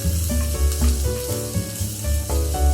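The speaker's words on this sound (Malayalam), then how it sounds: "ഇത് നന്നായി വഴറ്റി ബ്രൗൺ കളറായി വരണം." Pearl onions sauté in a hot pan for an onion curry, giving a loud, steady close sizzle with occasional stirring under a tonal musical background, and no talking.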